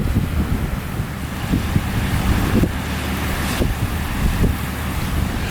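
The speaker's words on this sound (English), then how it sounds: "The wind is a little strong, but it's absolutely nothing to worry about." Strong wind blowing along an open coastline, a steady loud roar of buffeting microphone wind mixed with surf washing in, with gusts swelling and easing throughout and no voices.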